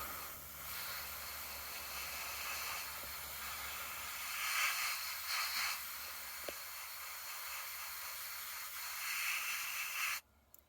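Airbrush spraying light coats of paint on a 1/72 scale Academy Sopwith Camel model aircraft, a soft, steady hiss that swells and fades in short passes, quiet and close, then cuts off abruptly near the end.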